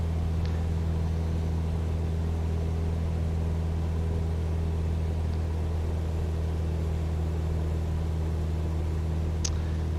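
A light aircraft engine in Microsoft Flight Simulator 2020 with its mixture leaned while climbing near 10,000 feet over Maui, Hawaii, gives a steady, unbroken low drone with a constant hum for the whole stretch and no voices.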